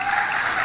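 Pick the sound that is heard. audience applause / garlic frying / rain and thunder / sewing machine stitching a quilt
audience applause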